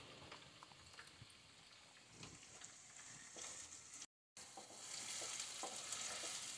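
Two medium onions, finely chopped, hiss and crackle as they fry in a pan for aloo methi, a faint rain-like sizzle with small stirring clicks that briefly cuts out and returns slightly louder; no speech.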